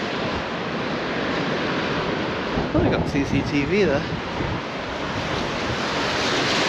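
Strong wind blasts along Blackpool promenade on a wet day, a steady, loud broadband roar with gusty buffeting on the microphone throughout. Someone speaks briefly partway through.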